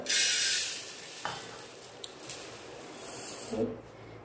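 Sugar and ghee being heated and stirred together in a pan, a soft continuous scraping sizzle with a louder burst at the start and a few light knocks of the spoon, close by and without talk.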